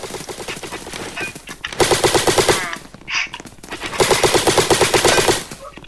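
Rapid bursts of automatic gunfire in a Roblox airsoft battle game, with repeated loud volleys separated by brief pauses and a short sharp shot in between.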